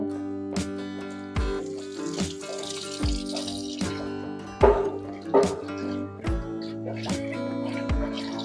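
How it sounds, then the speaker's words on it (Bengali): An old mobile phone back cover is rinsed with tap water after brushing, with intermittent splashes and trickles over steady background music. "এটা ভালো করে ব্রাশ করার পর কিন্তু এটা এখন আমরা ধুয়ে নিব"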